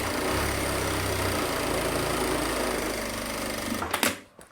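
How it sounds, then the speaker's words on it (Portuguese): A sewing machine runs a steady, continuous stitch along a lining to secure a safety seam, a dense even whir at close range that stops abruptly near the end with a couple of short handling clicks. "Eu vou passar agora, ó, uma costurinha de segurança aqui e do outro lado,"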